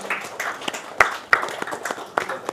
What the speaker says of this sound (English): Can we all keep the applause going on